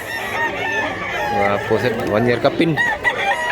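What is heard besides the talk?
rooster crowing and chickens clucking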